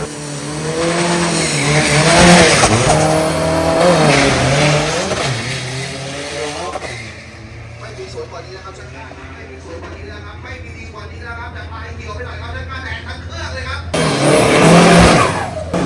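A pro class drag racing truck roars past at a drag race with loud revving and tire noise, fading to a distant engine drone before another loud burst at the end; speech is heard.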